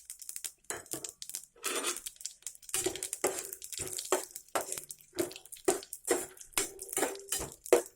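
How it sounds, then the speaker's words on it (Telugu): Peanuts are dropped into a pan while making tomato upma, with a quick series of light rattling clinks and scraping against the metal, close and crisp with no talking. "ఇందులో పల్లీలు కూడా వేసుకోవాలండి."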